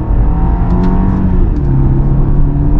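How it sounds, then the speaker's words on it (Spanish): BMW 3 Series 20i M Sport in sport mode downshifting and accelerating at full throttle, a loud, close, continuous engine roar with rising tones and brief shift blips. "ahora mismo bajamos una marcha y aceleramos a fondo"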